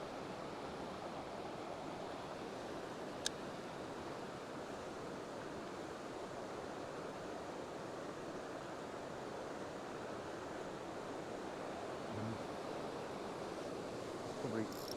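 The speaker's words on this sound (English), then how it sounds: "we've come to below the weir. There's a nice little weir pool here." Water pours steadily over a river weir into the pool below, a constant broad rushing roar that stays unbroken and fairly close throughout, with a brief faint click partway through.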